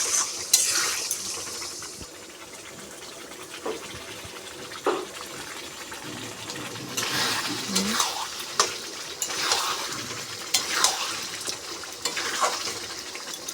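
A soft sizzle of spices frying in hot oil for chicken curry comes and goes beneath repeated scraping and stirring strokes in a pan, with occasional metallic knocks.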